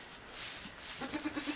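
A goat bleats faintly on a farm in cold weather, a short wavering call that rises in a few quick pulses near the end over a quiet background.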